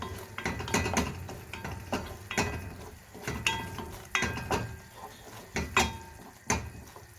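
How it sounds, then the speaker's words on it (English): A spoon scrapes and clinks around a pan, mixing Schezwan sauce just after malted vinegar goes in, in repeated irregular strokes with brief pauses, near and moderately loud, with no voices. "Now we need to add in 1 tablespoon of malted vinegar, and again mix until it is well combined."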